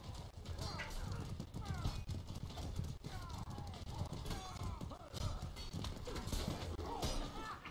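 Horse hooves clip-clop steadily and horses whinny in the medieval combat video game Mordhau. The busy, close hoofbeats continue throughout with game noise around them, and a player's voice is heard at times.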